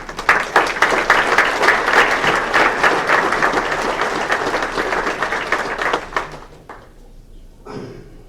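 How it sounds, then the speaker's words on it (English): Hall of fame induction audience applauding an inductee, a dense sustained round of clapping that fills the room for about six seconds, then fades out quickly into near quiet. "give him a huge round of applause"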